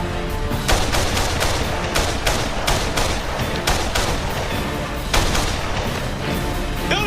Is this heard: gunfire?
yes